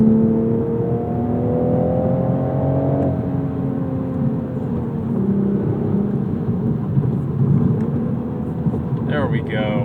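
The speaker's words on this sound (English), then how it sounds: "A little bit more aggressive with that throttle blip." A 2026 Toyota GR Supra Final Edition engine gives an aggressive throttle blip. The engine note climbs sharply, then eases back over a loud, steady roar of road and cabin noise.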